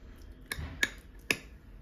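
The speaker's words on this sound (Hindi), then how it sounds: "इसको स्पून से थोड़ा टैप करेंगे" A spoon taps lightly on a layer of wedding-style carrot halwa studded with raisins, giving three soft, close clicks spaced unevenly over a quiet background with no talking.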